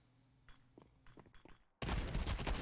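Counter-Strike 2 shotgun firing nonstop. Quiet scattered clicks and footsteps give way to a sudden loud, dense burst of rapid gunfire that continues to the end.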